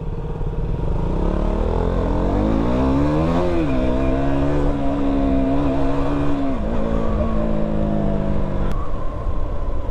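A KTM Duke 200, a 200cc six-gear motorcycle, revs loudly and close during a night ride in Mumbai. Its engine drones steadily, then climbs in pitch and holds high before it drops back, with no talk over it.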